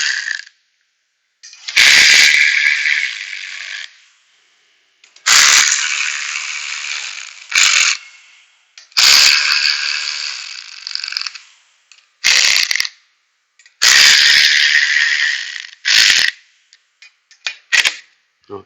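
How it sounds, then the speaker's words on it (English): An electric ratchet snugs bolts on a Honda GX390 engine during assembly, with about six close, loud bursts of buzzing, clicking mechanical whir separated by short pauses. "My electric ratchet, sorry, old school."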